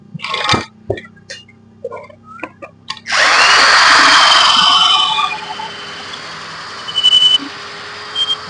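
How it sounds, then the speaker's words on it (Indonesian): A power drill bores out the clips on a washing machine, a loud whirring burst of about two seconds that tapers off, preceded by scattered taps and clicks and followed by a few short clatters. "berikutnya ini semua dibor aja gitu"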